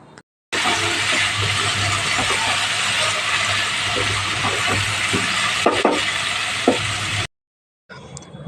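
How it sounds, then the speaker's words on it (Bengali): Sweet pumpkin stir-fried in a pan, a steady close sizzle with intermittent scraping clicks of a spatula, breaking off abruptly near the end. "মিষ্টি কুমড়াটা সুন্দর করে নেড়ে চেড়ে ভেজে নিতে হবে"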